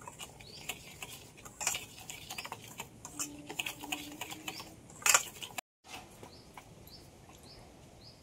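Jalebi batter ingredients stirred together in a bowl, a quick run of light clicking and tapping from a spoon against the bowl, close and quiet, with a brief silent gap near the end and no talk.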